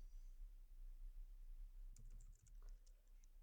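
Several quick keystrokes tap on a computer keyboard in a short cluster, faint and close, over a low steady background hum with no talking.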